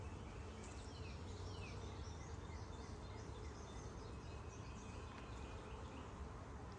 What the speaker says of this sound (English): It sounds like there was a bomber buzzing around my head.